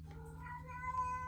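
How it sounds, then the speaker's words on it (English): A house cat gives a single drawn-out meow, tonal and fairly close, over a low steady hum with no talking. "My cat's meowing."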